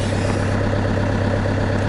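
A vehicle engine idles at minus 20 degrees just after a cold start with glow plugs, a steady low rumble running continuously and loud throughout, with no talking.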